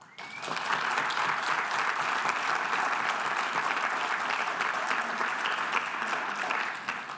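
Sustained, dense applause from a convention audience at a Pride commemoration fills the room evenly for several seconds before easing off at the end.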